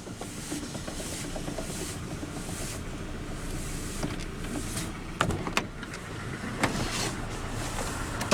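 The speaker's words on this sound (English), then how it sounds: "But now we'll roll down the driver's window" Driver's power window of a 2010 Ford Ranger XL SuperCab rolling down: a faint, steady motor whir inside the cab, ending with a few soft clicks and a small thump near the end.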